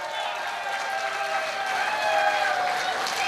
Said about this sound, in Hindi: अपने आप के लिए एक तालियां बजा के दिखाओ